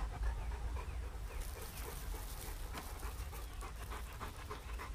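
A dog pants steadily and continuously, close by outdoors, while another dog is nearby; faint bird and farm sounds sit in the background, with no talking.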